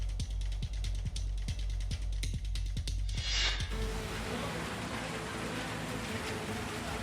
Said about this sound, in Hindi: वीडियो मिजोरम के आइजोल का है, जहां मूसलाधार बारिश जारी है।